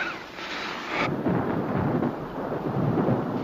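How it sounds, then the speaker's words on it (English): Thunder rolls in a long, deep rumble, loud and sustained, with a wash of rain and wind noise behind it. "Oh, it's thunder."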